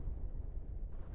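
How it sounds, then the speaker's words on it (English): Smart bombs detonate during an EVE Online alliance cruiser tournament battle. They make a dense, continuous low rumble like a heavy explosion, filling the whole short moment with no voices on top. "Lou is apparently using smart bombs"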